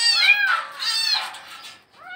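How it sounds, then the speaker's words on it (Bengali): A cat meows inside a well, two drawn-out plaintive cries close together followed by a shorter third call, loud and echoing within the enclosed space. "কুয়ার ভিতরে বিড়াল।"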